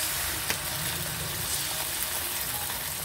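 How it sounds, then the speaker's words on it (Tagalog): Tomato sauce sautés in a hot pan for pork igado, a constant crackling sizzle with a brief sharp tick early on. "Igisa natin ang ating tomato sauce"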